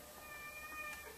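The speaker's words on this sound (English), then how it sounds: "There's a cat." A cat gives one faint, brief meow, thin and distant beneath low background noise.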